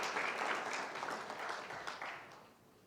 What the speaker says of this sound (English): I will call for another round of applause for Mr.